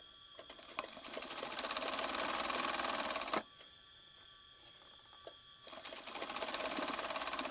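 A sewing machine stitches the hem of a half pant in a fast, steady mechanical whir, pausing briefly midway before running again, close and alone.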